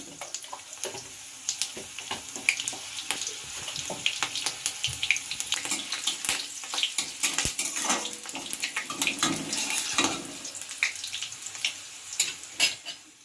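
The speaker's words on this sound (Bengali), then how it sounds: "এবার আমি তেলের মধ্যে দিয়ে দিলাম দুটো লঙ্কা চিড়ে আর অল্প কিছুটা" Slit green chillies and panch phoron hiss and crackle in hot oil, a continuous busy sizzle with frequent sharp spits and pops close to the pan, no talking.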